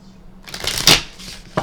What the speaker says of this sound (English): Let's give it a good shuffle one more time.